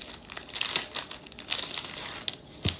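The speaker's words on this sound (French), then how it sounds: "Je vais ouvrir le collier." Crinkly plastic packaging for a stainless steel necklace being opened, with a run of soft, close crumpling and a few sharper rustles over a few seconds, no voices.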